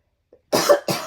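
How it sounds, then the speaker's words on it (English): A single close, sharp cough bursts out, followed a moment later by a second shorter cough, with silence before. "Of course I have to cough right in the video."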